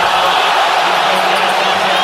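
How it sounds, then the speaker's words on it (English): Basketball arena crowd reacting to a replay on the big screen, a loud, continuous roar of voices and cheering with no pause across the short stretch. "Crowd reacting to the replay on the big screen."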